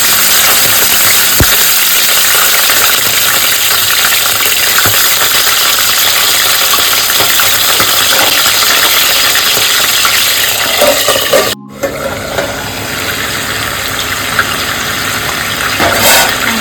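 Chicken pieces fry in hot white oil with a loud, steady, dense sizzle that runs throughout, broken only by a brief dropout before the sizzling resumes at the same level.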